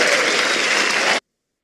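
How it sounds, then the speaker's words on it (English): A burst of dense clapping from a crowd, steady and loud, then cutting off abruptly into silence. "We are a round of applause for Mpho."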